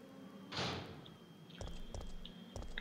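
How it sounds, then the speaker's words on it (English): A door being unlocked and opened in Resident Evil 3: Nemesis on the PS1, a brief bright mechanical clunk of the lock followed by low heavy thuds and rattles as the door swings, all faint and close. "We can unlock this door now."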